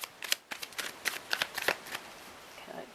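Tarot cards are shuffled in a quick series of crisp riffling bursts and soft slaps, close and fairly quiet, with no speech over them.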